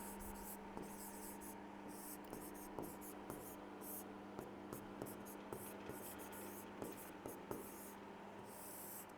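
Faint, scratchy strokes of writing on a board during a Hindi alphabet lesson recur as a series of short, soft marks over a steady background hiss.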